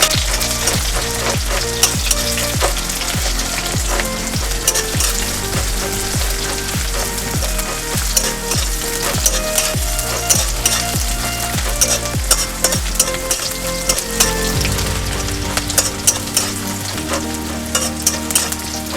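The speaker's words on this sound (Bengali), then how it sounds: "এই পেঁয়াজটা দিয়ে দেব। পেঁয়াজটা একটু হালকা ভাজা করে নেব।" A small chopped onion fries in hot oil in a pan, a steady close sizzle with repeated scraping clicks from stirring, continuing loudly without talk.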